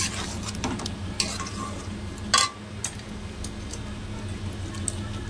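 Chicken mughlai with fried onions (beresta) is stirred in a pan, a steady low sizzle with scattered scraping clicks of a spoon against metal and one sharper clatter midway.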